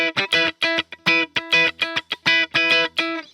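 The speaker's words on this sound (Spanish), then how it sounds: "Y cuando enciendo el compresor suena así." Electric guitar run through a Comproso compressor on an Ampero Stomp multi-effects pedal, worship-style tone, playing a choppy rhythm of about a dozen crisp, even strummed chords with smooth, level sustain between strokes.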